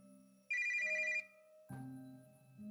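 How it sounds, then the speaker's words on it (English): A mobile phone rings with an incoming call, a bright electronic ringtone tone pattern sounding twice in short bursts, close and clear against a quiet background. "Lily took out her phone and saw that it was Azura calling"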